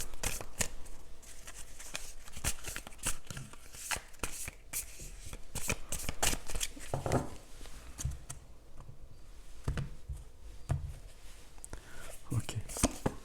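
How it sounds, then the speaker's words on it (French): Tarot cards being shuffled in repeated crisp riffling bursts, close and fairly quiet, with soft handling noises between bursts and no talk. "Alors je remélange et je reprends 3 autres."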